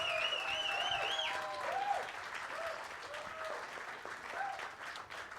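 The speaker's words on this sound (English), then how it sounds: "how about another big round of applause for Showtime here tonight" Applause rises from an audience at a Clubhouse Live show for Showtime, steady and moderately loud throughout, with whistles and cheers sliding over the clapping.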